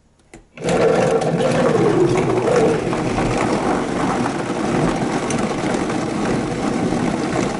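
A Vitamix blender blending vegetables switches on abruptly and runs loud and close, a harsh steady whir with a grinding edge that settles into a constant drone.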